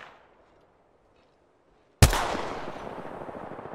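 A single sharp gunshot in Apex Legends cracks loudly after two seconds of near silence, followed by a decaying rumbling tail.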